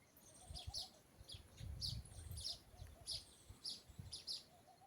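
An unidentified bird repeats short, high chirps, often in quick pairs, at a steady rhythm, faint and a little distant in otherwise quiet outdoor surroundings, with no talking.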